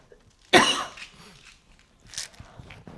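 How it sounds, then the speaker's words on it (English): One sharp, loud cough close by, triggered by dust near the floor, followed a moment later by a softer second cough and some faint shuffling. "every time I lean over, I start coughing"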